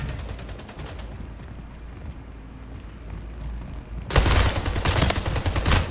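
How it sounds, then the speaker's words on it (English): Gunfire in Left 4 Dead 2: quick bursts of shots at the start, quieter in-game sound in the middle, then a loud, sustained rapid volley of automatic fire at the end. "I was shooting right on it."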